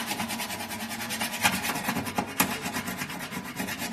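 Scraping residue off a stovetop with a makeshift tool in place of a proper scraper gives a steady rasping rub that repeats rhythmically and sounds close, with two sharper scrapes standing out.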